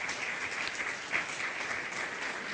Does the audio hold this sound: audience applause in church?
yes